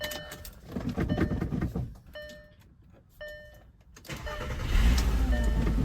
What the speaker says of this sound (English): I'll put all my coils in, connect up all my plugs, and I'll start it up.